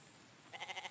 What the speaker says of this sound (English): Ooh. Another goat.